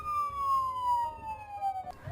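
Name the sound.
police sirens chasing car in video game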